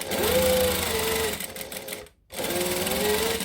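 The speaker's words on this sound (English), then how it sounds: "Now I'm just going to baste this in place." A sewing machine runs a basting stitch along fabric for a wallet, a fast steady whir that stops briefly, falls silent, then starts again at the same even pace.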